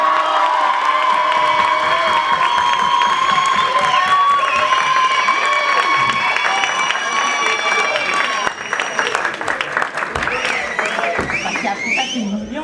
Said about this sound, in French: tonnerre d'applaudissements pour Jennifer